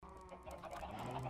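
Chickens clucking in the Minecraft video game, a steady layered stream of fowl clucks under a faint buzzing drone, continuous and fairly close with no talk.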